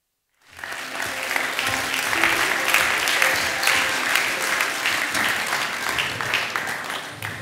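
A theatre audience at a Cottbus talk event breaks into sustained, loud applause welcoming the moderator onto the stage, a dense clapping wash that starts abruptly and holds steady throughout.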